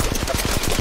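Rapid automatic weapon fire in an Apex Legends match, a quick even rhythm of close, loud shots filling a brief burst with no voices.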